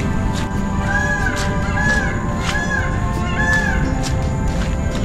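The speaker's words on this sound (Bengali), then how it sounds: "ময়ূরের ডাক শোনা যাচ্ছে" A peacock calls near Kumta beach on the Karnataka coast, sounding four repeated, fairly loud wailing cries in a steady rhythm over constant outdoor background noise.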